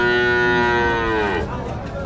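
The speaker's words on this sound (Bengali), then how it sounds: "অনেকগুলো ছোট ছোট বাছুর।" A calf or cow lows loudly and close at a cattle market where many small calves are sold, one long sustained moo that fades into a rougher tail over background noise.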